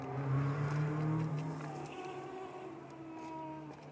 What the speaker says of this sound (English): they must have just started a go-karting session because I can hear them all going round behind me